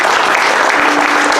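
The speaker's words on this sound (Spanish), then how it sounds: "Apláudale bien fuerte, hermano." A church congregation claps loudly and steadily during a sermon, a dense continuous wave of applause close by that fills the whole moment.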